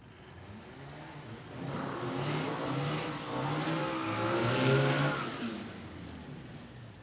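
A drag racing car launches down an Australian eighth-mile strip at a Christmas bash, its engine revving hard and swelling louder as it passes fairly close, then fading slightly, with a high whine riding above the roar.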